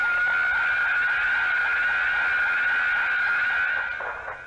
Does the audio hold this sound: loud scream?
yes